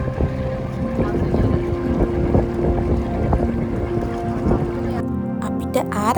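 On a boat ride to Nagadeepa off Jaffna, a motor drones steadily under heavy wind buffeting the microphone, and the roar stays loud and continuous throughout.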